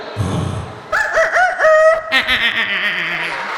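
A human voice imitates a rooster's crow. A short low vocal sound comes first, then a loud, close, rising and wavering cock-a-doodle-doo call of several segments.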